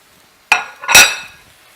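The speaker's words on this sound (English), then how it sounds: "Give everything a good stir as this comes together" A spoon or utensil scrapes and clinks against a pan while stirring a thickened shrimp stir fry with mixed vegetables in a spicy brown sauce, two close, sharp metallic contacts a half second apart with no talking.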